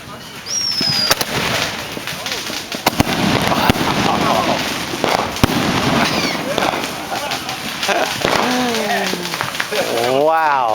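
Fireworks being set off outdoors, loud sharp bangs and crackles with three blasts in quick succession, ending in a rising whistle; excited voices talk over the din.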